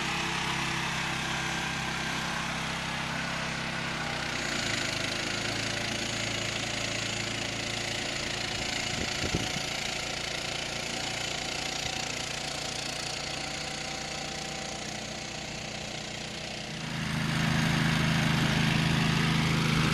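A 648 aerifier engine running on a golf course green, a steady mid-pitched drone with a rising, heavier engine tone in the last few seconds, close and continuous.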